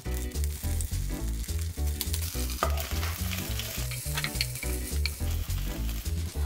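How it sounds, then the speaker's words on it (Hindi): Mustard seeds and cumin sizzle in hot oil with a loud, continuous crackle and stirring sounds, close and steady, with no voices. "आधा टेबलस्पून राई और एक टीस्पून जीरा"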